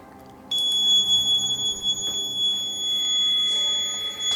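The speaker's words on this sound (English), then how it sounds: "the static energy inside this flat, in every single room, is so high that is constantly in alarm" Inside a flat, a static energy detector sounds a continuous high electronic alarm tone that cuts in abruptly and holds steady, with faint room noise and small knocks behind it.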